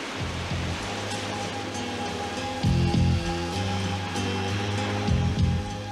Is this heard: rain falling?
yes